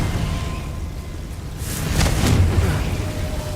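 A Confringo blasting spell goes off in Hogwarts Legacy with a deep, rolling whoosh-boom that swells midway and then settles into a low rumble, over constant game background noise.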